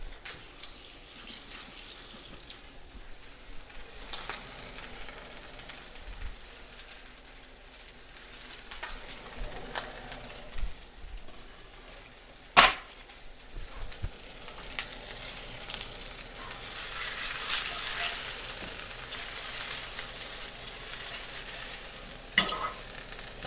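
A potato sears in a hot pan, a steady faint sizzle with occasional stirring scrapes and clinks, close and without talk.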